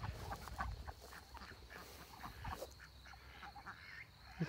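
Faint, scattered quacking from ducks nearby, short irregular calls over a quiet outdoor background.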